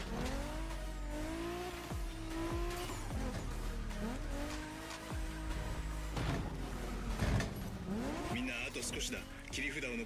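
Race cars roar and shift pitch in The Crew Motorfest, driven on a Fanatec wheel with ABS switched off, with tires squealing and skidding in bursts and engines revving steadily throughout the ten seconds.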